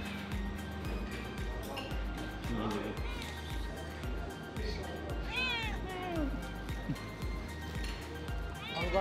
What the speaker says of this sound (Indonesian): Di Turki di mana-mana ada kucing